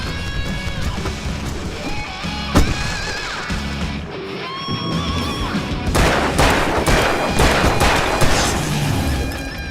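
Gunfire in the video game Alan Wake Remastered, with repeated sharp shots and booms over a dense layer of game music and effects, growing busier and louder in the second half.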